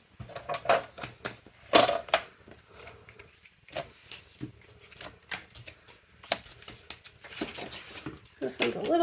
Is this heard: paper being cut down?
yes